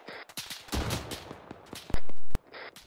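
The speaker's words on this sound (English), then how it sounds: "Taking shots." Gunfire in the ArmA 3 video game: a rapid run of sharp shots and bursts, loud and close, with one especially heavy blast near the end, and no talking over it.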